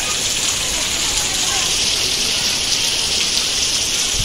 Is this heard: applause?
no